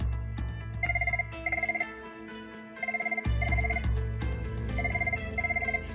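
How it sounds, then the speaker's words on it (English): A telephone rings in an office setting, repeated bursts of a bright electronic trill in pairs over a background of music, fairly loud and clear with no talk. "Oh, we got a phone call."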